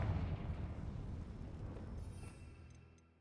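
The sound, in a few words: Confringo spell cast in the video game Hogwarts Legacy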